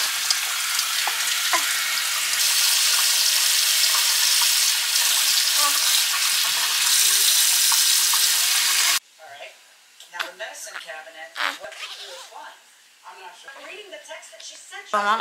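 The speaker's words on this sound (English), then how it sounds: "Let's just head start this bath for my son." Water runs into a bath with a steady, bright hiss for about nine seconds, then stops abruptly and gives way to someone talking over quieter household sounds.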